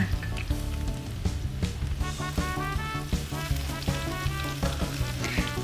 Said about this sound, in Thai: เมื่อน้ำมันพืชเริ่มร้อนดีได้ที่แล้วนะคะก็ ใส่กระเทียมลงไป 2 ช้อนโต๊ะนะคะ